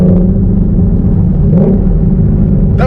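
A Shelby GT350 engine drones with a deep, steady rumble from inside the car at around 3,000 RPM, swelling slightly midway before a brief rising whine at the very end.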